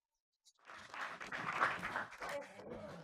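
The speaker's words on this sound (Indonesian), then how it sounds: "Kita tepuk tangan untuk Dr. Naik." Studio audience applauding a guest on an Indonesian television talk show, a burst of clapping that rises after a short silence and carries on steadily with some voices mixed in.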